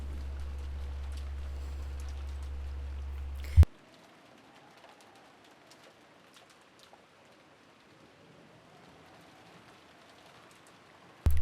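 Rain ambience from the Umineko visual novel, a soft steady patter that plays faintly alone, broken by a short loud thump and briefly cut off near the start, then resuming quietly.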